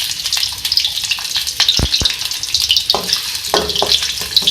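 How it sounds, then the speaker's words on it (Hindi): Chopped onions crackle and sizzle in hot ghee for a dal tempering, close and fairly loud, with a few sharp stirring knocks against the pan. "तो हम थोड़ा सा फ्राई कर लेंगे।"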